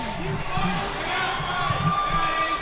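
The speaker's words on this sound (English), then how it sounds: "St. Paul's crowd will cheer." A crowd at a St. Paul's Big Red versus Phillips Exeter prep-school ice hockey game cheers in a steady, loud roar, with scattered thumps and rumbles from the rink.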